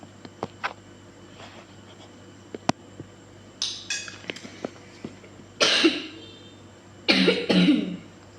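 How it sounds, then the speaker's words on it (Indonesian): Two harsh, close coughing bursts stand out after a quiet stretch with a few light clinks and taps. "batuk terus"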